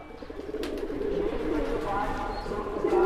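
Black Saharanpuri pigeons coo in soft, low, rolling murmurs that run on under someone talking nearby, with a faint chirp or two.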